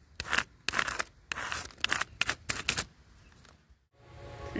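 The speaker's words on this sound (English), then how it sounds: "And then you just rub the wax paper up against the stone." Wax paper is rubbed against a stone outdoors, making a series of dry, crinkly scraping strokes in short bursts, then a pause and a faint low rumble at the end.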